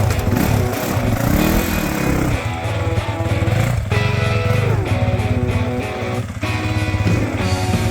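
Yamaha WR250 dirt bike (2023) pulling away on rocky hard-enduro terrain, its engine note rising and falling loudly and continuously as it revs, close and dominant throughout with no talk.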